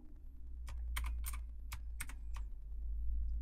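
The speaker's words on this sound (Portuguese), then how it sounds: "Você pode também escolher o brilho apertando FN aqui, page down e page up" Keys tapped on a backlit computer keyboard, a handful of crisp, irregular clicks close by over a steady low hum, with no talking.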